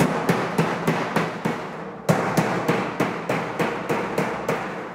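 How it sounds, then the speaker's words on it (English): Repeated metallic hammer blows flattening a sheet metal duct seam, about fifteen evenly spaced strikes with a brief pause midway, loud and close. "sheet metal hammers are flat on one side. So you can either set and beat it down like this"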